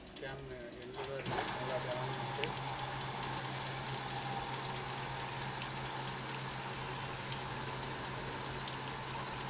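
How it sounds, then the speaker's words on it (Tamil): A Traub A32 automatic lathe runs steadily while cutting a ball finish with a tool, a continuous mechanical hum with a low drone that starts after a brief clunk and holds evenly throughout. "டூல் கட் கொடுக்குறேன் பால் ஃபினிஷிங் ஆகிற வரைக்கும்"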